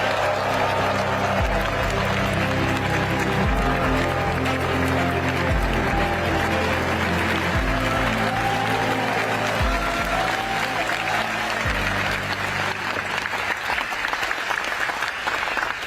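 Audience applause welcoming Korean Prime Minister Kim Min-seok at a Jeollanam-do provincial event, steady and full through the whole stretch, with music-like sustained tones underneath and no clear speech.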